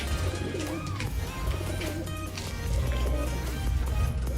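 Domestic pigeons cooing nearby in a loft with a steady low hum in the background, soft repeated coos running through the whole stretch.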